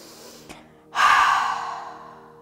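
A strong exhale during guided Wim Hof breathing, a sudden loud breath out that fades slowly over a second and a half, preceded by a short faint inhale sound.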